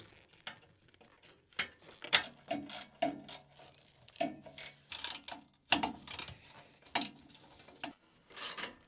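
Ratchet work on the bumper of a Volkswagen bus during restoration: bursts of rapid metallic clicking and ratcheting strokes come in irregular clusters, fairly close and clear, with short pauses between.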